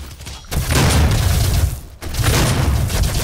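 Shotgun blasts in the DOOM beta video game, two heavy booming shots about a second and a half apart, each followed by a long rumbling tail.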